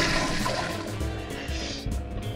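A toilet flushes in the cooking game Cook Serve Delicious, a continuous rushing, gurgling swirl of water filling the whole moment at steady loudness.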